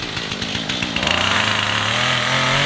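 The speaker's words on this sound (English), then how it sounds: "he's got the chainsaw going" A chainsaw being used to bring down a tree sputters briefly, then runs at a loud, steady high-pitched whine very close by, with no voices over it.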